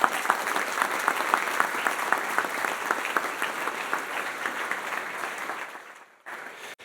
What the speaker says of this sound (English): So how about a round of applause for Chelsea and her team?